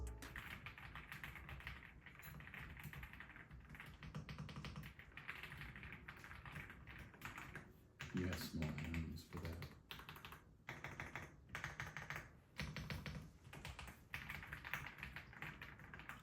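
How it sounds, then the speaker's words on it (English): Rapid, crisp keystrokes on a wireless computer keyboard fresh from an Amazon unboxing clatter steadily up close, with a brief spoken comment and some rustling partway through. "This is the main reason I got this keyboard. It is so good sounding."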